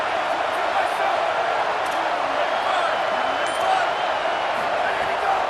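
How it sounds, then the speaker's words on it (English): A dense, steady roar from a football stadium crowd in a video game holds loud and unbroken throughout, with no clear breaks or peaks. "This crowd, full throat, splitting the eardrums and letting them know it's going to be a long day."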